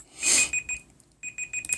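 A kitchen-style timer alarm goes off in rapid high-pitched beeps, a loud burst first, then a pause and another run of sharp electronic beeps.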